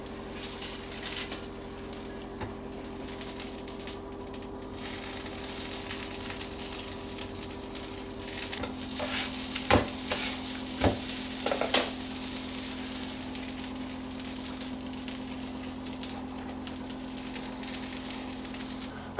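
Naan sizzling steadily on a hot griddle, a continuous close frying hiss with faint crackles and a couple of brief sharper pops midway, no voices.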